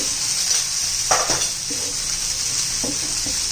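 Mustard seeds and cumin sizzle in hot oil with cluster beans, a steady close frying hiss throughout, broken by a few brief pops and stirring clatters, no voices.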